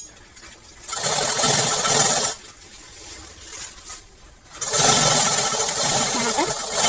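A sewing machine stitches a baby's kaftan frock in two bursts, a close, loud buzzing whir that runs for about a second, pauses, then runs again for a couple of seconds.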